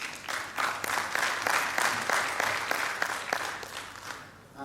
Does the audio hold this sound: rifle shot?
no